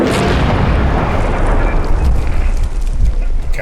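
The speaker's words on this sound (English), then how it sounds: "Kaboom! Cyber Demon explodes." A Cyber Demon blowing up in the video game Doom: a deep, rumbling explosion that rolls and crackles for several seconds, loud and close, with bursts of debris-like noise over the boom.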